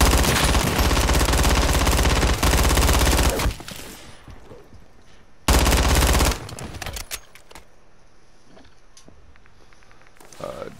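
Loud, rapid hip-fired automatic gunfire in Call of Duty, two long continuous bursts separated by a pause, followed by quieter game ambience and scattered faint sounds.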